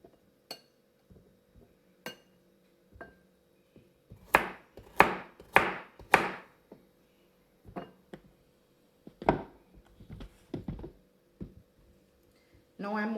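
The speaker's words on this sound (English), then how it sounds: "here I am cutting up the carrots" Carrots being chopped with a knife on a board: scattered single taps at first, then a quick burst of heavy chops, followed by more spaced strikes with faint clinks, over a quiet background hum.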